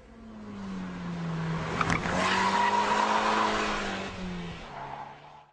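A KTM X-Bow sports car sweeps past on the Silverstone circuit, its engine note swelling and then fading as the tyres squeal briefly mid-pass, loud and fairly near.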